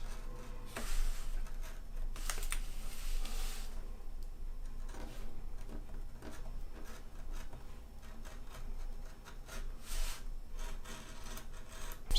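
Scissors cutting a Tyvek FedEx envelope along a traced line: intermittent crisp snips and papery rustling bursts, close and fairly quiet, spread irregularly across the stretch with short pauses between cuts.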